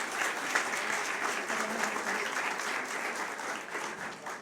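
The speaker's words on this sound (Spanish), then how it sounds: "Un aplauso para ellos, por favor." Audience applause fills a hall at a constitutional law panel discussion in Puerto Rico, a dense, even clapping that holds steady for several seconds with no voices over it.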